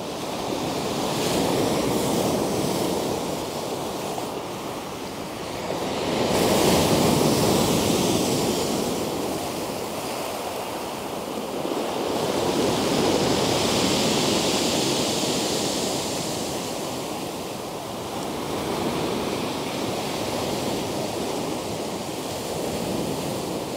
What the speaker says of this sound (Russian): вы пока полюбуйтесь на море